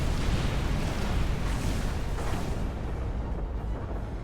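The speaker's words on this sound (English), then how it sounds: "With the explosions to send him off." Explosions in the action game Skul: The Hero Slayer roar in a dense, loud, continuous burst of booming blasts that gradually thins toward the end.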